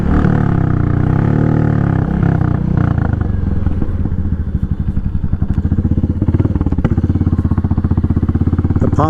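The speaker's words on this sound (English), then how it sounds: "The pops and bangs of a hot rod motorcycle." A Royal Enfield Meteor motorcycle set up as a loud hot-rod dirt bike revs close by, then its exhaust crackles with rapid popping and banging bursts as the throttle drops off, with no voices.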